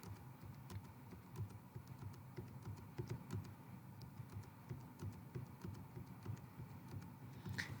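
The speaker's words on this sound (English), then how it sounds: "And then I'll type in these data values." Steady typing of data values on a computer keyboard into an Excel spreadsheet, a quiet continuous patter of key clicks with a few sharper taps, no talking.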